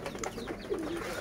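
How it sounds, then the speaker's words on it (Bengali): Domestic pigeons coo close by in a pigeon coop that holds a pair of young local birds, giving soft warbling coos through the short stretch over a busy low background. "এখানে আছে 1 জোড়া দেশি কবুতরের বাচ্চা"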